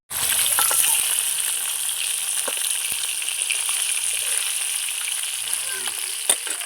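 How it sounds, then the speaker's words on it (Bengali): Rupchanda fish frying in oil in a pan: a bright, constant sizzle and crackle that starts abruptly and holds steady, with occasional spatters and a louder pop near the end. "পুরো আমার মাছ ভাজা হয়ে গেছে"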